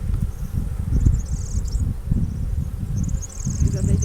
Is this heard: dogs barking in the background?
no